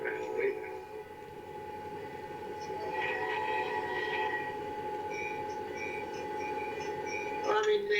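A Norfolk Southern local train in a train simulator game running up to a grade crossing, a steady rumble with sustained horn tones, while people chat over it.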